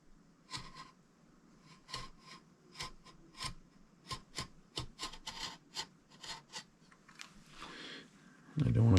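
A blade trims the edge of leather for a handmade knife sheath in short, gentle scraping and rasping strokes, close and fairly quiet, with a louder knock at the end.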